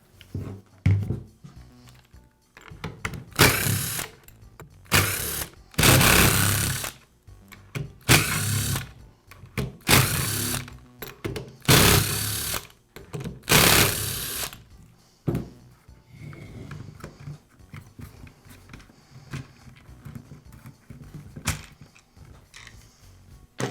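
Power screwdriver bursts while removing one side of the motor housing on a Makita belt sander: a series of loud whirring runs of a few seconds each, separated by short pauses, then quieter clicks and handling of parts.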